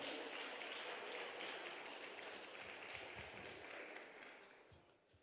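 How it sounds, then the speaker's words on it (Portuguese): A church congregation applauds at a worship service, with a dense, fairly faint wash of clapping that gradually thins and fades toward the end. "Aplauda ele, pode aplaudir"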